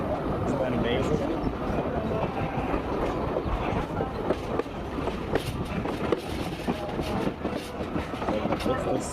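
Train running along railroad tracks near a switchback, a steady rumbling roll with faint rhythmic clatter throughout, fairly close and continuous, with voices talking over it.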